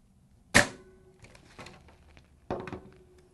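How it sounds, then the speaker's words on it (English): Staple gun driving staples into a canvas gallery wrap corner, one sharp close snap followed by two softer ones about a second apart. "Grab my staple gun."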